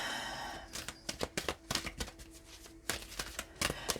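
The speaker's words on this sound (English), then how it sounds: "This Star Beings card popped out a few times already, so I'm just going to shuffle it once more" A deck of Star Beings oracle cards being shuffled close up, with quick irregular bursts of card riffles and soft slaps, quiet and intimate, with no talking.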